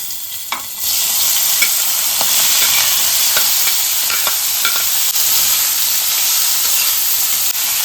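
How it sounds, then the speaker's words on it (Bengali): Small unpeeled shrimp go into hot mustard oil in a wok and set off a loud sizzle that swells suddenly and stays steady. Faint clicks of stirring tap through the frying, with no voices. "কড়াইটা বসিয়ে দিয়েছি, দিয়ে দিলাম সর্ষে তেলে। চিংড়ি মাছটা করছি ভাজার জন্য।"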